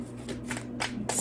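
Tarot cards being shuffled by hand, a few quick riffling bursts close to the listener, brief and crisp with no talk.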